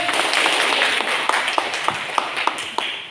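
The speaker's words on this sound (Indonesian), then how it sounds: "Sekali lagi tepuk tangan Pak Khotib." Audience applause for Pak Khotib at an assessment-writing workshop, a dense wash of clapping from a room of people with a few sharper nearby claps standing out toward the end.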